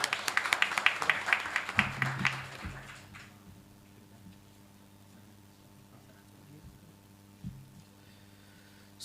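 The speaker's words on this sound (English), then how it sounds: "So big round of applause" Conference audience applauding, a burst of dense clapping for the first two to three seconds that quickly fades, leaving a quiet hall with a steady low hum.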